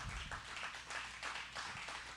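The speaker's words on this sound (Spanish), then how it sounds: "Y dele un fuerte aplauso al Señor." A church congregation applauding, a dense wash of many hands clapping at a distance, steady and moderately faint for a couple of seconds.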